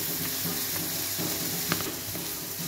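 Onions with turmeric and coriander powder cooking in a kadai for dhaba-style kadai paneer make a constant close sizzle and crackle, with a faint stirring scrape now and then and no talking.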